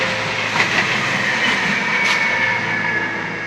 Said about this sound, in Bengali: সাথে সেই লোকাল ট্রেনের আওয়াজ